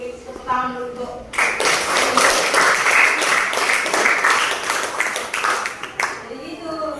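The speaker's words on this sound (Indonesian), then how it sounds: "tepuk tangan dulu tuh" A school class breaks into lively, dense hand clapping for several seconds, with a voice talking just before and right after the burst.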